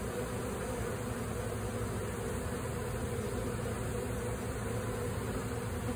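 A swarm of honeybees hanging on the side of a hive makes a dense, continuous buzz, close and steady with no talk.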